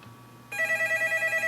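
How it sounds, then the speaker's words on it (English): A telephone connected to a Nettalk TK6000 VoIP unit starts ringing after a brief quiet moment, with loud, close electronic rings repeating in a steady pulsing pattern. "there goes the phone"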